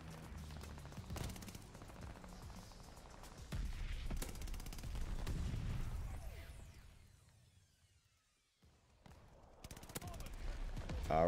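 MG42 light machine gun firing in Warzone Pacific, loud bursts of gunfire in short clustered volleys with a brief lull before firing resumes.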